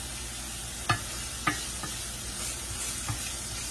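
Food being stirred in a cooking pan with onions cooking over fairly high heat, giving a steady sizzle broken by a few distinct scraping strokes of the utensil, close and fairly clear.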